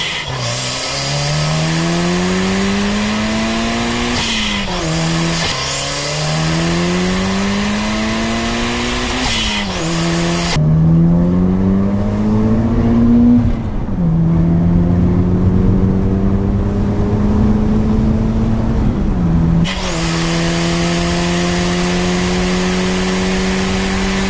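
A drift car's engine revs hard through first gear, rising in pitch again and again with brief drops at each lift, a loud, close, continuous roar that keeps pulling without any talk.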